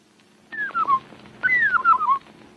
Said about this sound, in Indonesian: Lihatlah bunga-bunga yang bagus dan dengarlah burung-burung yang bersiul.